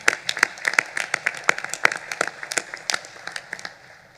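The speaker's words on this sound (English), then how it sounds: "So a round of applause to you all for leading us through this." Scattered clapping from an audience at a Coast Guard Auxiliary national board meeting, sharp individual claps in an uneven rhythm, moderately close and fairly light, as if from a modest crowd.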